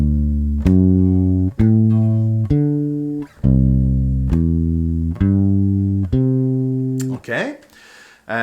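Electric bass plays a slow walking blues arpeggio pattern for bars nine and ten of a twelve-bar blues, with distinct plucked notes ringing in steady sequence, close and clear, ending with a brief slide.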